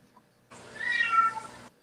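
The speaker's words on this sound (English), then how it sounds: "I hear one of Bob's cats" A cat gives a single drawn-out meow, close and clear, against a quiet background.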